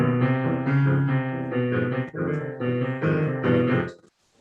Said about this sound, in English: there's this evil dwarf named Alberic, who's got this theme that sounds like this.